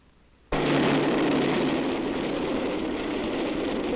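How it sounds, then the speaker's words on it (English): A loud, broad rumble abruptly starts and continues steadily, like a heavy train roaring past close by. "As this train approaches, let's see how close it comes before we hear it."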